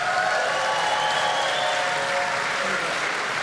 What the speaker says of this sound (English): Can we make some noise for Ken Coleman, George Camel?